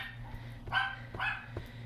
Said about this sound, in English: You have to excuse the dogs in the background.